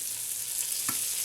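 Meatballs frying in a soup pot give a steady close sizzle, with one brief clink partway through.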